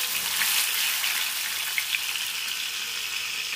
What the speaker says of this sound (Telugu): ఆయిల్ బాగా హీట్ ఎక్కింది. ఇప్పుడు కాకరకాయ ముక్కల్ని వేసేద్దాం.